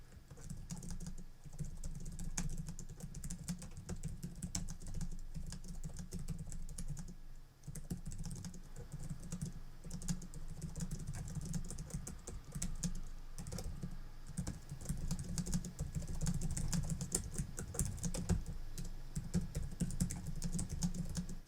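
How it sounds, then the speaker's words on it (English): Fast, continuous typing on a laptop keyboard, a dense patter of light key clicks with a brief pause partway through, picked up at moderate level with no talking. "let's run a quick test now of us typing on the keyboard"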